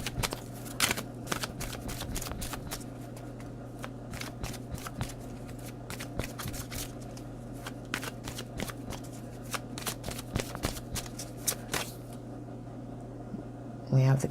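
Tarot cards shuffled by hand, a long run of rapid, crisp riffling flicks up close, with a steady electrical hum beneath and a voice speaking now and then.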